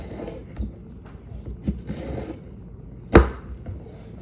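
Okra being chopped for frying in a home kitchen, a few scattered knife thuds on a board at uneven intervals, one sharper louder chop, quiet between strikes.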